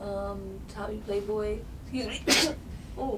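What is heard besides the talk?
sneeze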